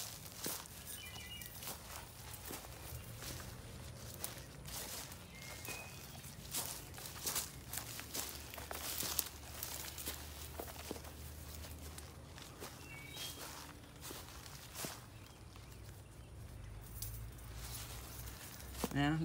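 Footsteps pushing along an overgrown bamboo-lined garden walkway, crunching and rustling through leaves and stalks at a steady walking pace, close by with a faint outdoor background.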